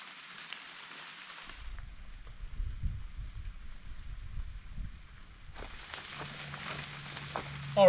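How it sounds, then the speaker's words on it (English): Rain falls steadily on an open hiking trail in northern New Zealand, a soft continuous patter with rustling and handling noise over a low rumble. "hence why I'm getting rained on a bit"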